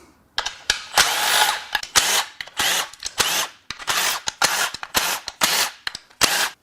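Power tool bursts loosening the lower oil pan bolts on a Nissan Frontier 3.8L V6 engine, a rapid series of sharp, loud, close-up whirring bursts separated by short pauses.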